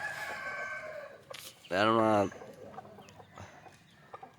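Native country hen and rooster squabbling around a brick chicken coop: one loud, close rooster crow in the middle, surrounded by faint clucking and brief bits of a voice.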